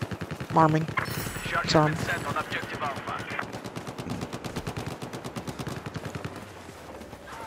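Rapid automatic gunfire in Battlefield 4 starts under a short exchange of voices, then continues as dense, fast-repeating shots that stay fairly loud throughout.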